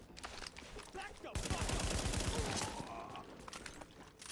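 Rapid gunfire in a firefight in the video game Tom Clancy's The Division, a sustained automatic burst of evenly spaced shots lasting over a second, with scattered single shots and game noise around it and speech faintly underneath.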